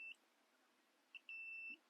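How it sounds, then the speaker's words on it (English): A continuity tester, used while installing a Level 2 EV charger, gives a brief high beep and then a longer steady one as its tip touches metal; the beeps are clean and close in a quiet setting. "Make sure you touch the metal. And touch any metal anywhere else, it beeps."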